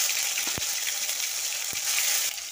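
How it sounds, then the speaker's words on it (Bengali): Chopped tomato sizzling and frying in hot oil left over from frying fish, a steady loud hiss with a couple of sharp crackles, no talk. "ওই তেলেই আমি টমেটোটা দিয়ে দেব।"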